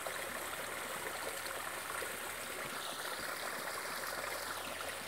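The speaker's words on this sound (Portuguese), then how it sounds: "A minha água, ela brota aqui dessa mina. É uma mina d'água." Spring water welling up and running out from between rocks on a rural property, a steady continuous trickling and gurgling flow heard close by without a break.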